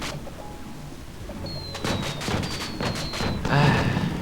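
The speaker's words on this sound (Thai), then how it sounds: "ใครมาจุดประทัดแถวนี้" Firecrackers go off for New Year in the online game 12 Tails Online, a cluster of sharp popping cracks in quick succession followed by a heavier burst, over quiet game ambience with faint whistling tones.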